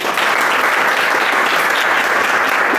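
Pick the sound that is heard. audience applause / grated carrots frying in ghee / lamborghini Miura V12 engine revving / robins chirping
audience applause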